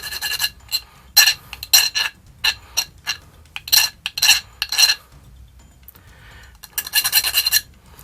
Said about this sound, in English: So I'm just going to kind of file it down a little bit.